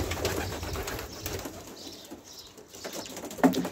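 Long-distance racing pigeons in a loft, with a male beside a female sitting on eggs, give soft, low cooing amid rustling and a brief wing flutter, close and fairly quiet.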